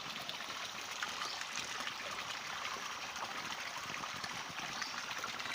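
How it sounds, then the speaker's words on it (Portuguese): Water pours continuously out of a pipe at a spring in the woods, a steady, soft hiss of flowing and splashing water, faint and unbroken, with no one speaking. "Olha lá a quantidade de água que sai no cano."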